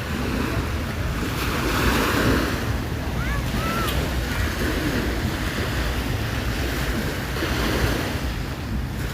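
Sea waves rolling onto Bang Saen beach in Thailand, a continuous roar of surf with heavy wind buffeting the microphone, a few faint bird calls briefly audible in the middle.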